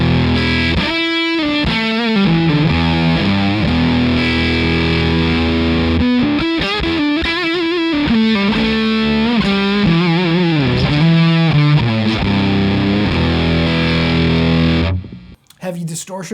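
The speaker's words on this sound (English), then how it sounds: "And you throw a fuzz in there" Fuzzy, saturated electric guitar through a fuzz pedal and REVV D25 Joey Landreth Edition amplifier plays a riff of sustained notes and chords, thick and buzzing, before cutting off near the end.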